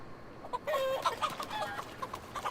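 Chickens clucking in the video game Assassin's Creed Valhalla: after a near-silent start, a cluster of short, close clucks and squawks breaks out, with one longer drawn cackle and scattered quieter clucks continuing.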